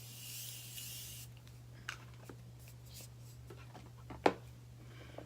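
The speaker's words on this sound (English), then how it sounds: "we have to spray our Morphe setting spray so that we can lock everything in" Morphe setting spray misted onto a face, a brief hissing spritz at the start followed by quiet rustles and one short sharp burst, faint over a steady low electrical hum.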